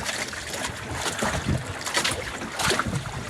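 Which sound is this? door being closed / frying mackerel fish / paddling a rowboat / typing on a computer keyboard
paddling a rowboat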